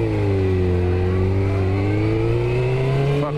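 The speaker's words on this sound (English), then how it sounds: "Bike just sputtered kind of hard" A motorcycle engine runs steadily and loud throughout, its tone wavering slightly, with a brief rough stutter near the end as it sputters and runs badly.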